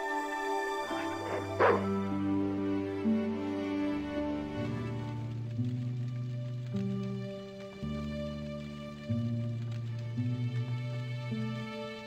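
A dog barks in the point-and-click adventure game Broken Sword 2, its yips and woofs set against loud, continuous game music with sustained melodic tones.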